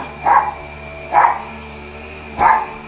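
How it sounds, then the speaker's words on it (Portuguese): Three separate dog barks about a second apart, each short and moderately loud, heard alone against a steady background hum, with no talking. "Os cachorros, a cachorrada também fica."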